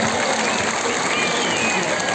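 Applause from a festival crowd at an outdoor stage event, the Erbaa leaf festival in Turkey, a steady dense wash of clapping that sounds close and sustained throughout.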